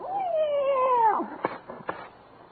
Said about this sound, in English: that ain't a cat. That's the dog.